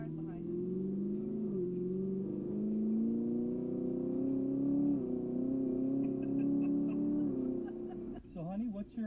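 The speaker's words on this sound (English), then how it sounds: "Cars behind us." A car engine rumbles steadily at a mid pitch throughout, with the revs rising slowly and then settling as traffic drives close behind, and a brief lower burst comes near the end.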